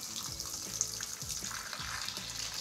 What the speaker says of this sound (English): I'm gonna start by turning our water on.